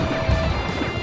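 A dump truck smashes in a shoot-em-up video game, a loud, dense crash with a heavy low thump near the start that holds steady to the end.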